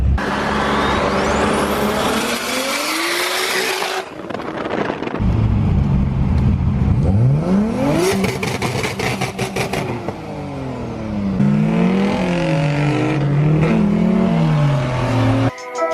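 Loud cars at a Gold Coast car meet rev hard and pull away one after another, with engines climbing, shifting and dropping in pitch, close and continuous apart from a brief lull.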